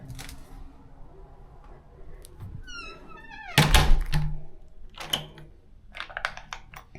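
A front door being pushed shut at an Airbnb, landing with a single heavy thunk and a brief rattle, close and loud, followed by faint shuffling and a few light knocks.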